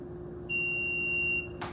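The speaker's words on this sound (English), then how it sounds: "You hold this down until you hear that long beep." A Hansshow power trunk gives a single long electronic beep when its opening height is set: a steady, clear tone of just under a second, followed by a brief click.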